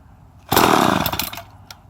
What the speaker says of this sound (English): I needed a little chainsaw serenade.